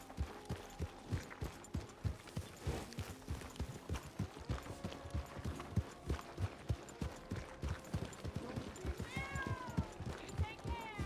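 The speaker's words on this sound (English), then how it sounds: "I heard the cat meow" A cat meows a few times in a horse-riding roleplay video game, a short rising and falling call near the end over steady clip-clop of hooves and other game sounds.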